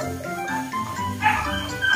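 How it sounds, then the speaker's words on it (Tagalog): A dog barks and yips a few times in quick, short bursts, fairly close. "Unahin natin pakainin ng aso si Bella kasi ang ingay-ingay"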